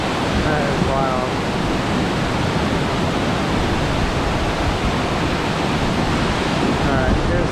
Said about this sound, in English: It's just hard to believe all this water is coming off of the glacier.